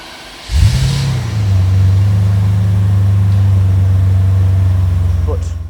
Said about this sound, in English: we'll put in a little clip now of firing it up, just so you can hear exactly how it sounds